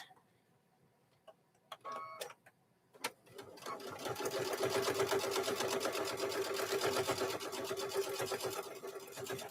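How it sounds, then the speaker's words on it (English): After a few scattered clicks and handling knocks, a sewing machine starts up and runs steadily, stitching closed a fabric microwave bowl koozie, close and fairly loud. "I like to make these with my other machine because it'll sew through a lot more layers"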